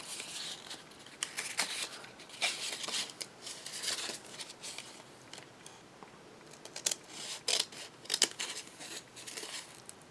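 Scissors cut through vintage paper for a junk journal page, giving a string of crisp close snips and soft papery rustles at an uneven pace.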